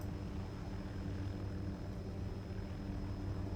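MH-6J helicopter flying in the game Arma 2 Operation Arrowhead: a steady, muffled engine and rotor drone with a constant low throb, quiet and unchanging throughout.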